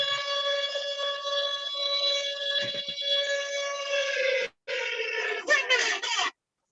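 An alarm sound effect rings out loud and steady as a blaring electronic tone, holding for about four seconds, breaking briefly, then sounding again with warbling bursts before stopping.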